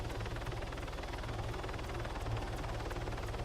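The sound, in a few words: helicopter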